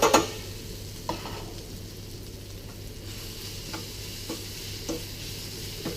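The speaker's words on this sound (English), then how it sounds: "I'm going to add some brown onion to that and a little bit of brown vinegar" Brown onion sautés with a splash of brown vinegar in a pan, giving a steady soft sizzle with a few light stirring scrapes spaced through it and no talking.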